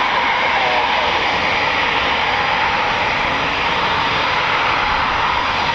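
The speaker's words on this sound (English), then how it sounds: "Got a Typhoon just over us now." Eurofighter Typhoon FGR4 fighter jet passing overhead at RAF Coningsby, a loud, steady broadband roar of jet engine noise filling the whole stretch without letup.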